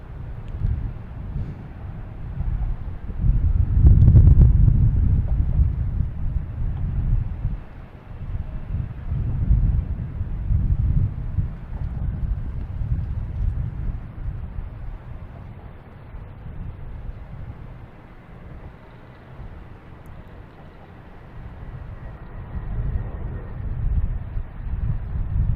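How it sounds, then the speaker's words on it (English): Gusty wind buffets an outdoor microphone at Boston Logan Airport, a steady low rumble that swells in strong gusts, loudest near the start and again toward the end, with no voices. "It is a gusty wind out here for sure."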